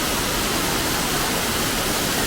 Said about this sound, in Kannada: ಮಂಗಳೂರು ಸಿಟಿಗೆ ಹತ್ತಿರದಲ್ಲಿ ಇರುವಂಥ ಒಂದು ಜಲಪಾತ ಇದು.